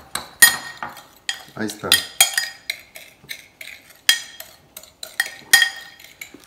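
A metal spoon clinks and scrapes rhythmically against a bowl while stirring cinnamon into a buñuelo mixture, with sharp repeated strikes close by and brief speech.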